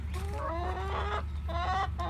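Hens clucking as they are let out of their coop in the morning, a close, lively run of rising and falling clucks from a small flock, with no talk over them.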